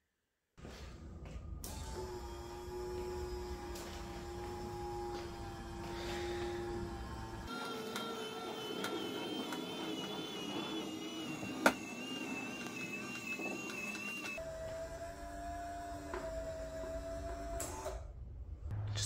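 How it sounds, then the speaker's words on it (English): A 30-watt winch motor lifting a TV out of a ceiling whines steadily at close range, changing pitch between separate runs, with a sharp click partway through. "swapped a 6-watt winch system to a 30-watt winch system"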